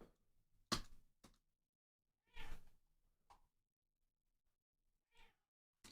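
A house cat meows several times in short, separate calls spread over a few seconds, faint and at a moderate distance against a quiet background, with no talk.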